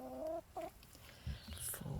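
Farm hens in a small yard beside a little coop give a few short clucks and squawks, faint and close-by amid low background noise.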